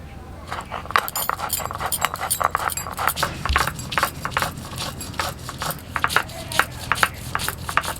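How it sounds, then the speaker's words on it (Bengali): Traditional stone grinding of white and black mustard seeds, poppy seeds and green chillies sprinkled with a little water, giving rhythmic scraping and knocking strokes that repeat steadily and sound close at hand. "সামান্য জল ছিটিয়ে আমি বেটে নিচ্ছি।"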